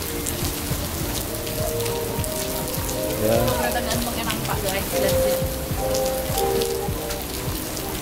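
Steady rain falls outdoors near a mall along the Singapore HarbourFront, a dense constant patter on surfaces filling the whole stretch, with faint voices and a short spoken word in the background.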